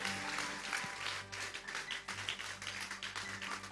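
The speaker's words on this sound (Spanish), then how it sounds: "Dele un poderoso aplauso a la palabra del Señor." A church congregation applauds together, sustained tapping claps forming a steady wash at moderate volume, with a low tonal hum lingering underneath.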